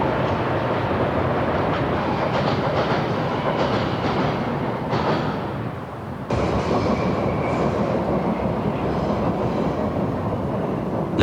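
A Vienna metro train runs steadily and loud throughout, with a continuous rolling rumble and a brief dip in level near the middle before the noise resumes at full strength.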